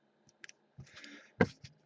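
A few sharp snips of scissors cutting, close up, with short clicks between the cuts and no talking.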